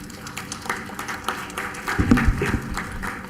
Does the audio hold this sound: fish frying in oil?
no